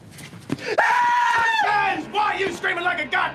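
A man lets out a long, loud scream with a wavering pitch that holds for nearly a second before breaking off, followed by shouting and other excited voices close by.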